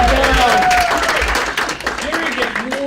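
A crowd at a 4-H wagon train gathering claps and cheers loudly for Jerry, who feeds the group, with voices calling out over steady applause that fades slightly toward the end.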